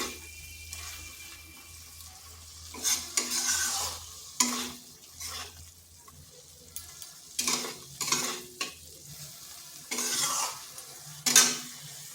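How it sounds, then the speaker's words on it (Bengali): Fish pieces being tossed into a frying spice paste in a pan, with intermittent scraping stirs and soft sizzling against a quiet background hum, no talk. "মাছগুলো মশলার সাথে মিশিয়ে নিচ্ছি"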